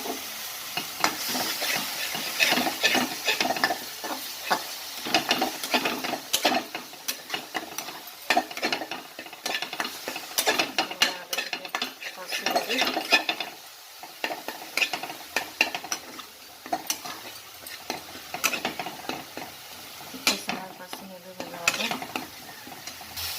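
Ginger garlic paste frying in a pan for paneer do pyaz, a steady sizzle under frequent scraping and clinking strokes of a spoon stirring against the metal, close and continuous throughout.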